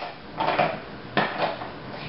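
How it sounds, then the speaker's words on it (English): A plastic baby wipes container lid is pressed shut at home, giving two short, close clattering plastic snaps about three-quarters of a second apart, with no voices. "Then you want to close the lid and release any air that's inside so it's airtight."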